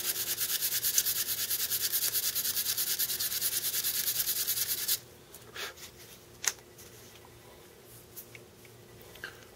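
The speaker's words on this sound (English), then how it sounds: "So we'll do a little sanding." Fine sandpaper rubbing a primitive bone needle gives a steady, close, dense scratching for about five seconds, then stops, leaving faint handling taps and light scrapes.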